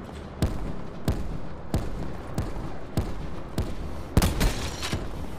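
Gunshots ring out in a shooter video game, roughly one every half to three-quarters of a second, sharp and fairly loud over a steady background of game ambience, with a quick double shot near the end.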